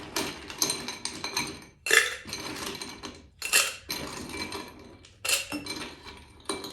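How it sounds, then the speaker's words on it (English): Repeated clinks and rattles of ice cubes dropping into a cocktail mixing glass, in several separate bursts with short pauses between. "Now we will add a little bit of ice to my mixing glass."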